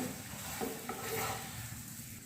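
A stuffed palak and methi paratha frying in a pan gives a steady sizzle, with a few soft scraping stirs near the middle and no talking.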